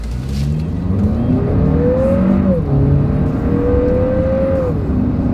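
A 2025 Lexus NX 350 with a turbocharged four-cylinder accelerates hard down a straightaway, its engine whine climbing steadily through two upshifts over loud road and wind noise from inside the cabin.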